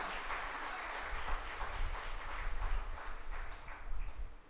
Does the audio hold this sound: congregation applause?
yes